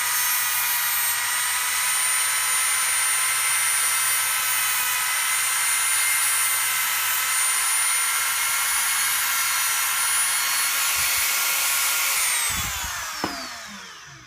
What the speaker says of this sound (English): I'm going to take a cutting wheel. I'm going to take the end of this wire. I'm going to sharpen it.